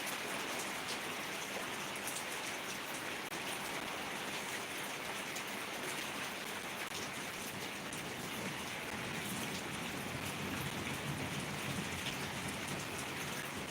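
Steady rain falls close by, a dense, even hiss of drops striking surfaces that continues unbroken with no voices.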